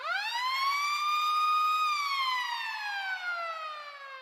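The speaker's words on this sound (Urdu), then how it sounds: "صبح کے ٹھیک 7:57 پہ ڈورس کو ایک سائرن سنائی دیتا ہے۔" A naval base alarm siren wails in one long rising tone, holds, then slowly winds down, clear and fairly distant with nothing else around it.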